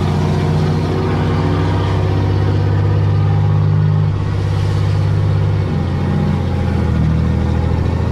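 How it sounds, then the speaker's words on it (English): A vehicle engine with its turbo unplugged and vanes open drives along with a steady, loud mid-pitched drone and a shift in tone partway through, heard from inside with no talking. "Doesn't know how loud it is with the vanes open."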